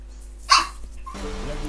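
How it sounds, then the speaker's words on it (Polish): A dog in the video game The Witcher 3 gives one sharp, loud bark, followed by quieter game ambience. "Jezu, co ten pies odwala, Boże."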